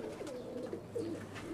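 A single well-balanced, broad-chested pigeon coos nearby, a series of soft, low, throaty calls rising and falling in short phrases with no voices over them.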